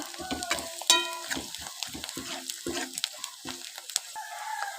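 Ivy gourd curry stir-fried in oil until brown, giving a steady sizzle with irregular scrapes and clatters of a stirring spoon, while a rooster crows in the background.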